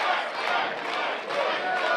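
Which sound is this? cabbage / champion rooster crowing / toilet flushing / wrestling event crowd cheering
wrestling event crowd cheering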